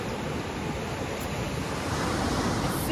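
Ocean surf rolling onto a surf beach at Nipah on north-west Lombok, a continuous broad wash of breaking waves with some wind buffeting the microphone, no voices.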